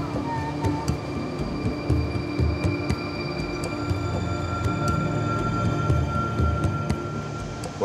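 California Zephyr passenger train running at night, a steady low rumble and hum of the rolling carriage with faint rhythmic clicks, continuous and close throughout with no talking.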